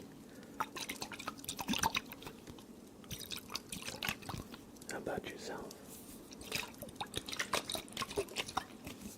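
Water dripping in a calm ASMR setting, soft repeated drips and small liquid taps scattered throughout, close to the microphone, with quiet speech running underneath.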